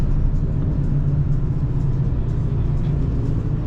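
A Mk8 Golf GTI and a BMW M6 idling side by side at a Lakeside Park euro day drag event, a steady low engine rumble holding without a rev.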